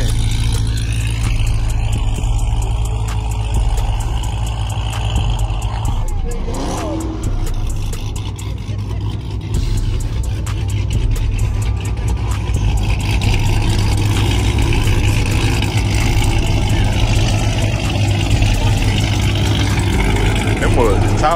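A modified Dodge Charger engine runs nearby with a deep, steady rumble and idle throughout, loud and continuous, while people talk over it.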